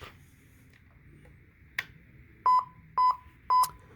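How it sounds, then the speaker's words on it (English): Three short, clear electronic beeps in a steady rhythm after a quiet stretch with faint clicks, a battery-powered Lionel G scale Polar Express toy train warning that its remote is not detected. "it will start making that beeping noise"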